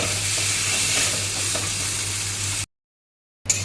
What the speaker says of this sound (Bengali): এবার এটা এইভাবে ভাজা ভাজা করবো হয়ে যাবে